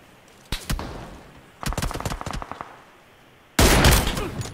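Gunfire in the battle royale game BGMI, with short bursts of rapid automatic shots separated by pauses, ending in a louder, sustained volley close to the player.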